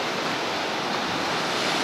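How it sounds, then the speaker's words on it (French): Ocean waves breaking on the shore at Biarritz in September, heard as a steady, loud wash of surf with wind noise on the microphone, no voices. "Là, il y a des vagues qui arrivent"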